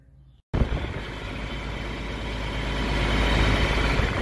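John Deere 4440 tractor diesel engine starting, catching abruptly after a short quiet moment and settling into a loud, steady, rough idle that builds slightly, up close and without talk.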